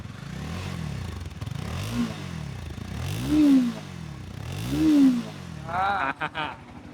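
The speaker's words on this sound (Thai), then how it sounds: "ไปเราสตาร์ทรถดีกว่า" A Honda motorcycle engine cranks and catches with repeated churning surges, then settles into a low putt-putt idle, followed by a few sharp clicks and rattles close by.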